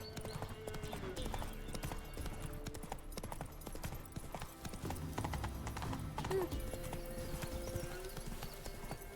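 Horse hooves gallop in a steady rapid clip-clop rhythm in the video game The Witcher 3, continuous and close, with an occasional faint whinny.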